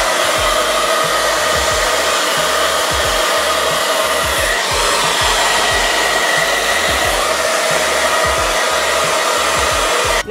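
A hair dryer blows steadily and loudly while drying type 4 natural hair, a constant close whoosh with a faint rhythmic flutter as it moves through the hair, with no talking.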